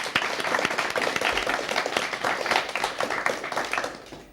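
An audience applauds at a French student television news broadcast, a steady patter of many hands clapping at moderate volume for the whole stretch, with no talking over it.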